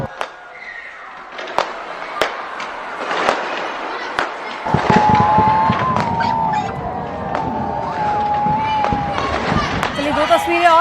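New Year fireworks over Sydney welcoming 2025, with repeated sharp bangs and crackling bursts at irregular intervals, then a steady rumbling roar of explosions and whistles mixed with crowd noise in the later half.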